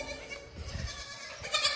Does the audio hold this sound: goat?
yes